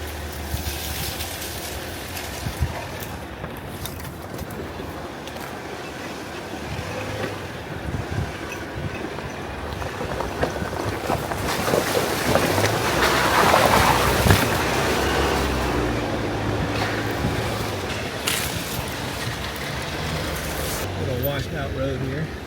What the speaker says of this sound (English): Just cross back over this little creek.